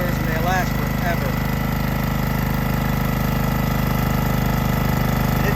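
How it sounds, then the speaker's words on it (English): A Honda motor drives a hookah diving compressor, running loud and close with a steady, even drone that holds throughout. "Gotta love a Honda motor."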